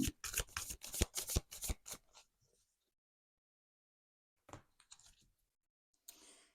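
Tarot cards are shuffled close by in a quick riffling burst of papery flutters over about two seconds, followed by near silence and a few faint soft handling sounds later.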